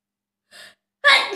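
A self-induced sneeze during a repeated sneezing challenge: a short, soft intake of breath, a brief pause, then one sharp, loud sneeze burst that trails off.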